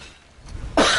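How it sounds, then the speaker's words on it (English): A single sharp cough bursts out close to the microphone near the end, preceded by a brief rough throat noise, during God of War gameplay. "I don't mean to cough in your ear."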